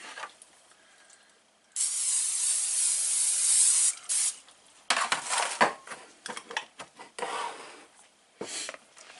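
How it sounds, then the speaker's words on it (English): A butter-flavored cooking spray hisses in a long burst, followed by several shorter sprays and small kitchen clatters, fairly close. "We'll take our butter spray."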